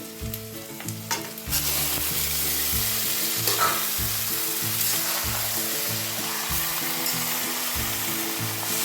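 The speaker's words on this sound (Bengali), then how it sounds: "এবার আমি কচুর শাকটাকে দিচ্ছি" Elephant foot yam stalks tossed into a pan of golden fried onions, setting off a loud, sustained sizzle with repeated rhythmic stirring scrapes close by.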